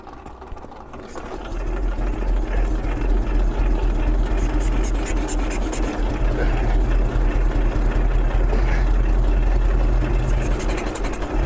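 An old German motorcycle with a low-compression engine is pushed over and turns, giving a steady low chugging mechanical rumble with a rhythmic ticking texture that swells and holds loud and close.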